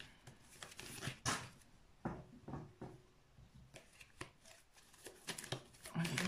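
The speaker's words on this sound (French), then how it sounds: "Je vais mélanger les cartes." Tarot cards being shuffled by hand, a quiet series of soft riffling slaps and rubbing bursts in an irregular rhythm, close and faint with no talk.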